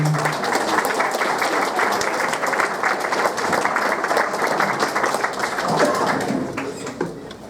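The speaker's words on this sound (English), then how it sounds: "y'all could give one more round of applause to our Commerce team" A ceremony crowd at the 2016 CISD Hall of Honor Induction gives the Commerce team a round of loud, continuous clapping that stays steady before thinning out in the final second.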